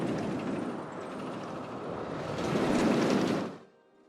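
A roller coaster train in Planet Coaster rumbles and whooshes along its track in a steady, loud roar that swells near the end and then cuts off abruptly.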